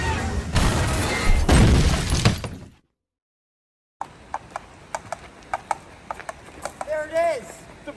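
A burst of loud, chaotic noise cuts to silence, then a run of sharp, evenly spaced hoof clops on a hard surface, followed by a brief whinny.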